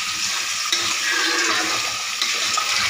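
Ginger garlic paste and chopped tomatoes sauté in a hot pan, giving a continuous loud sizzle and frying hiss with faint stirring scrapes and no voices.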